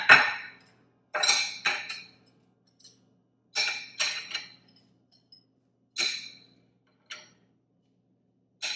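Tarnished silver pieces clink and chime as they are stacked one by one into the base of a butter dish, bright metallic taps in scattered small clusters separated by quiet pauses.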